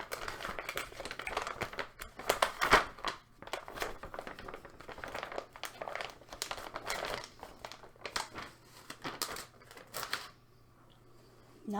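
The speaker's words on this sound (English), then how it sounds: "we're gonna put them back in this envelope case" Paper envelopes being slid and pushed back into an envelope case, giving continuous crinkling and rustling with a few sharper crackles, close up, easing off near the end.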